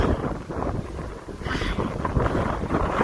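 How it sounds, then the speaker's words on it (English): Gusty wind buffeting the microphone, producing continuous low rumbling and muffled roaring that swells and eases throughout, with no one talking. "it's windy today because it's quite humid."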